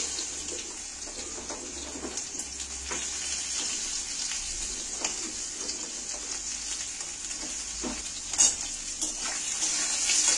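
Potatoes and onions fry together in hot oil seasoned with panch phoron, producing a continuous bright sizzling hiss with faint stirring clatter and a brief louder scrape near the end.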